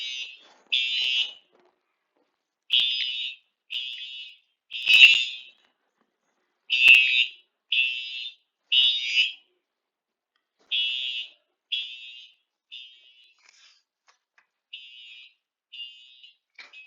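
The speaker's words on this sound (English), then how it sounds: "It's like a fire alarm." A fire-alarm-like electronic beeping repeats in short bursts with irregular gaps for the whole stretch, loud at first and fading somewhat toward the end, with no talk over it.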